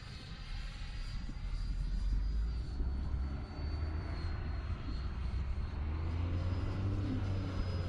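An X-fly Sirius 80mm RC sport jet with landing flaps down passes slowly overhead, its ducted-fan whine holding at a steady, moderately loud level throughout, with a low rumble underneath and no voices.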